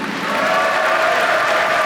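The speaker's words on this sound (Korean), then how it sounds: "큰 박수 부탁드립니다" A crowd at the Rebuilding Korea Party national members' convention applauds, building within a moment into a loud, sustained roar of clapping that fills the hall.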